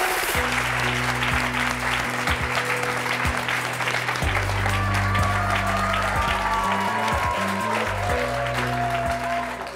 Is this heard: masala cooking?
no